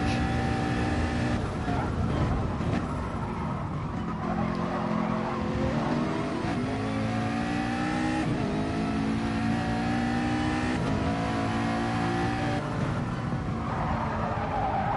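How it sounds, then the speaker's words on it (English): GT3 race cars roar through an esports race in the video game Gran Turismo, a continuous loud engine drone with shifting, rising and falling pitch as cars accelerate and brake, unbroken for the whole stretch. "Both taking different lines between the long right-hander onto the final straight, where GTMX-JmmL has slipstream"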